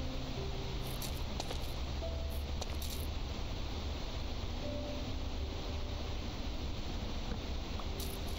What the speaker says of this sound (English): It's still freaking raining though, which is insane.